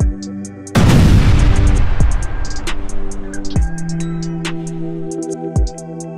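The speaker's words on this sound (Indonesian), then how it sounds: "Kali ini mereka pula telah dibedil, bergegar dan bergoncang." A heavy cannon blast strikes a T-72 tank in combat with a loud, booming burst, followed by a long rumbling decay. A strong harmonic engine drone and sharp mechanical clanks continue throughout.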